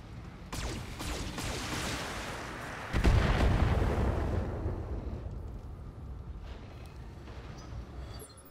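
Heavy weapons fire from battling mechs in the Battletech video game: loud overlapping booms and bursts, with a big blast about three seconds in and sustained rumbling fire afterward.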